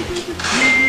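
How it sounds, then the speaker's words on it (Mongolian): A fax machine signal tone: a steady, fairly loud high-pitched tone rises in partway through and holds to the end over background noise. "энэ дуугарч энэ паксийн дохоо өгж байгаа"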